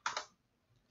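A couple of quick computer keyboard key clicks sound close and crisp at the start, then fade into quiet room tone as a command is typed on a Windows computer.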